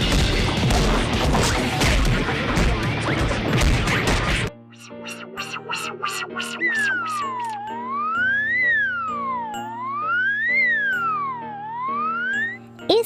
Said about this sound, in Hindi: फिर चौकीदार गधे के पास गया और डंडा लेकर पीटना शुरू किया।